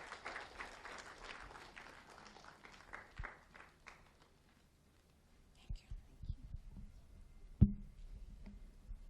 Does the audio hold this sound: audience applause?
yes